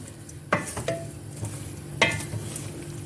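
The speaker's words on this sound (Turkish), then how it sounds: "Evet turşumuz kaynamaya başladı." A pot of pickle brine bubbles and simmers close by with a steady low hiss, broken by a couple of sharp clinks of a spoon stirring against the metal.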